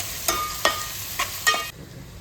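Chopped onions frying in a pan for dry prawn biryani, browning steadily; about four brief stirring scrapes break through a soft, continuous sizzle, close and moderately loud, with no one talking.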